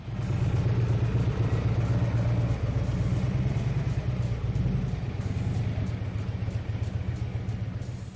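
A Harley-Davidson Electra Glide motorcycle engine rumbles steadily up close, a deep continuous throb that stays loud and even throughout with no voices.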